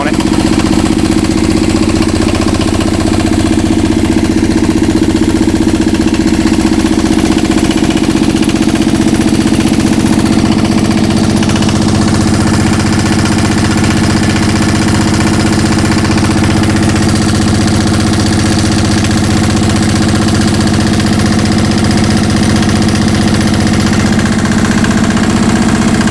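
A diesel engine idles while warming up, a loud steady rumbling drone that runs unbroken throughout.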